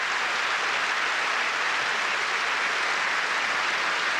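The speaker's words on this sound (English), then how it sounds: "Penn State players also applauding." An arena crowd at a Penn State basketball game keeps up broad, continuous applause, with players joining in after an injured player goes down, a dense, even roar of hands with no voices.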